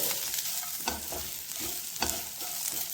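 Drumstick leaves sizzling in hot tempering oil, stirred with repeated soft scraping strokes over a constant frying hiss.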